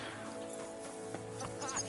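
Horse hooves clip-clopping softly in a video game, a short quiet stretch of footfalls with a faint whinny-like tone over low background music.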